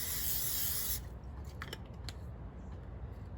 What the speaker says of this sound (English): I will spray the bottom with a non-stick cooking spray